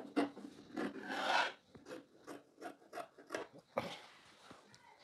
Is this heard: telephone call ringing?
no